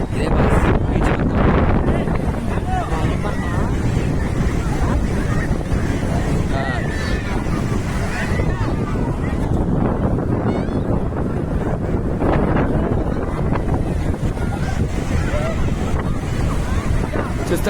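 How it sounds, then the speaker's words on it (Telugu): Waves and wind at Suryalanka beach in Bapatla on a busy weekend, a steady loud wash of surf with wind buffeting the microphone throughout, and voices talking over it. "ఇది ఇటు సైడ్ ఫేమస్ బీచ్ అండి సూర్యలంక"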